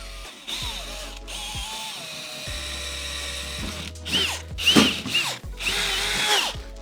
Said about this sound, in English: now that I have all 4 of these holes drilled